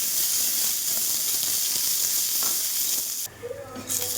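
Onions and lentils sizzling and frying in a pan as they are stirred, a steady broadband hiss for most of the stretch that drops away near the end, leaving faint quieter sounds.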